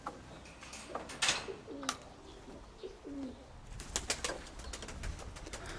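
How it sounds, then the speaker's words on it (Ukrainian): Pigeons cooing in a closed loft, soft low coos repeating a few times among rustling and faint flutters, quiet and close. "Ще голуби зачинені."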